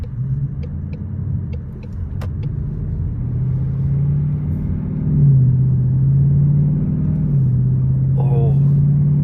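A Ford Mustang GT fitted with an H-pipe exhaust rumbles deeply and steadily nearby, its low engine note stepping up and down in pitch a few times as it drives.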